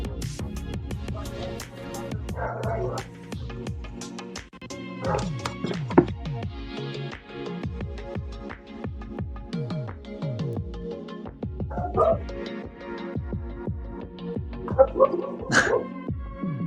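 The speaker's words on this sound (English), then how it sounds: "Can you hear the dogs barking?" Dogs bark and yip repeatedly in sharp bursts, some close and some farther off, with occasional whimpering and someone talking in between.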